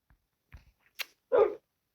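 A Minecraft dog gives a single clear bark after a few soft, faint sounds, with silence around it.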